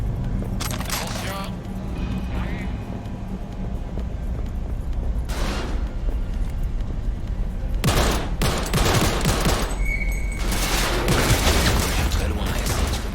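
Gunfire in the video game Cyberpunk 2077, bursts of shots and rapid volleys scattered across the scene alongside clinks and game effects, with a character voice talking at the start.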